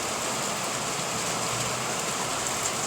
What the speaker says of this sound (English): I know you can hear the rain.